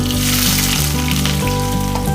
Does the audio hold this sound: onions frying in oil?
yes